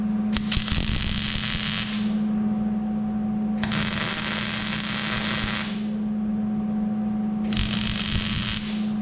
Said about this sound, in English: We're going to tack weld that in.